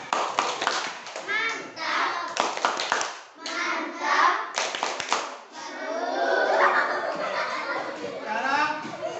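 Children clap together in rhythmic bursts of a classroom clapping routine, crisp sharp claps coming in quick patterned groups, mixed with lively children's chatter and shouts around them.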